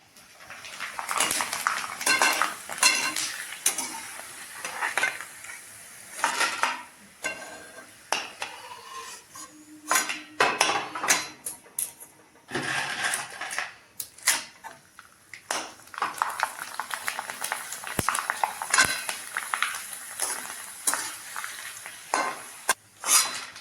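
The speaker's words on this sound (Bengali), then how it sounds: "এবার আমরা তোমরা দেখতে থাকো, আমি পুরো পাঁপড়টায় ভাজবো।" Papad frying and being stirred in a pan for homemade chips, with bursts of sizzling and clinking, scraping utensil strokes against the pan running steadily with brief pauses, close and fairly loud.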